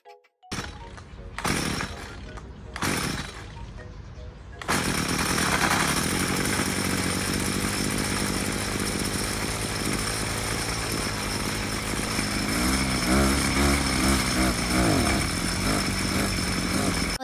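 A gas-powered grass cutter is pulled and sputters through several short failed starts before catching and running at a loud, steady whine on a sunny day, with pitch shifting slightly as it works.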